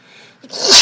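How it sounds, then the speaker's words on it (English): A single loud sneeze up close, a short breathy intake followed by a sharp explosive burst. "I got to sneeze"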